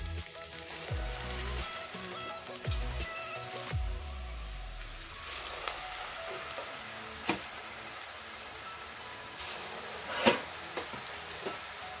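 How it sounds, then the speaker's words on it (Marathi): Chakli frying in hot oil over a low flame, a continuous bubbling sizzle with scattered sharp pops and crackles, fairly close and steady throughout, with a low humming tone in the first few seconds. "आता आपण चकल्या तळून घेऊया"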